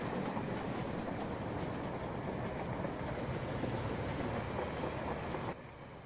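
Trains in the Rolling Line model railway game run as a steady continuous rumble with faint rhythmic wheel clatter, loud and close, cutting down to a quieter level near the end.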